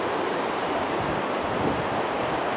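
Water rushes fast and high along a flooded trail, a loud, steady broadband roar with no breaks, close by and with no voices over it.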